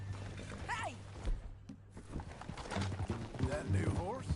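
Horse hooves clip-clop in a video game, a steady rhythmic patter under and between voices, with creaks of tack and a brief whinny-like squeal.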